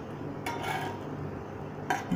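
A fried egg for anda tawa masala is lifted off a hot tawa into a dish, with two light clinks of utensil against the dish, separated by a quiet pause, over a faint background hum.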